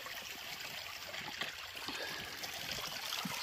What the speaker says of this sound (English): So even though it looks a little crooked, water's hitting it straight. It's running pretty good.